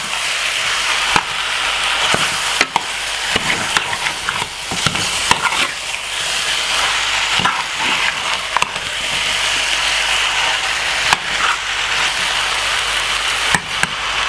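Spicy curry chicken sizzles steadily in a hot pan while being stirred, a constant frying hiss broken by frequent sharp scrapes and clacks of the spoon, close and fairly loud.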